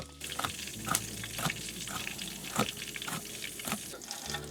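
Crushed roasted hazelnuts go into butter browning in a pan, with an ongoing close sizzle and frying hiss broken by a few sharp clicks and pops.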